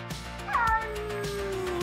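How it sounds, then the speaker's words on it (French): A real domestic cat meows once, a clear rising-then-falling call, close and moderately loud, set over a steady electronic synth music bed with rhythmic pulses. "C'est un vrai chat, pas un robot."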